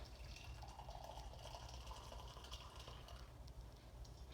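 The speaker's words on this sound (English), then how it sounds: "I'm gonna add my coffee about halfway." Coffee being poured into a cup, a faint, steady stream of liquid filling it for several seconds with soft splashing and gurgling.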